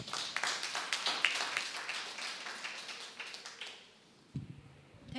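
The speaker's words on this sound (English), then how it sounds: "Let us welcome her with a clap." An audience at a university department's Ruby Jubilee celebration claps to welcome the head of department for a valedictory speech, a dense burst of applause that gradually thins and fades out, followed by a brief voice near the end.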